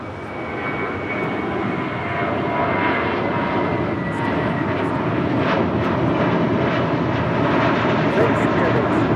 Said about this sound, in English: Heavy Dreamliner is touching down.